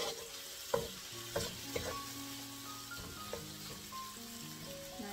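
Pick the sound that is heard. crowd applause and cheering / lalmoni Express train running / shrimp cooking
shrimp cooking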